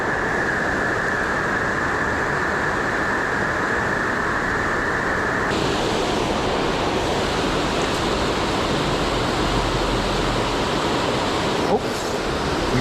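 Water pouring over a small falls at a bass fishing spot, a dense, steady broadband rush heard up close and loud throughout, shifting slightly in tone partway through.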